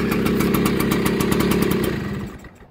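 A 1980 Kawasaki KV75 minibike engine runs close by with a steady, rapid putter, its small single-cylinder idle holding evenly before dying away into near silence at the end.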